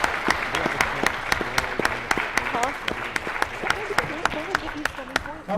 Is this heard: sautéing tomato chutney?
no